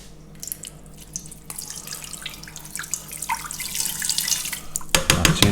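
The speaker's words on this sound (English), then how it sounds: "straight in with the apple juice" Apple juice poured into a pan with gammon makes a steady liquid stream with splashing, growing fuller over several seconds and ending in a louder burst of splashes close by, with no talk.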